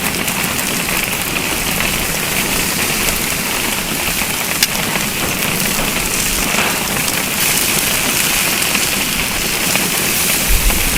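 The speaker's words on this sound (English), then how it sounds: "It's so cold outside today. It's raining." Steady rain pours down outdoors on a cold day that earlier brought a little snow, a dense, even hiss with close drops pattering on a surface and no voices.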